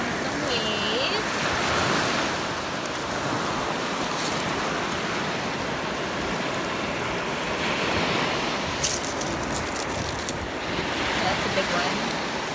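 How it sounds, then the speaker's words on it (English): Ocean waves surging and breaking on a beach at high tide around sunset, a steady broadband wash with swells rising and falling, some wind noise on the microphone, and a voice talking briefly over the surf. "Here comes some waves."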